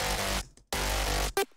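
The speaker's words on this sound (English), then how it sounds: "this fat Reese sound that sounds like this" A fat Reese bass synth patch built in Serum for a mid-tempo drop, playing two loud, dense, sustained bursts separated by a short gap, then a brief clipped hit at the end.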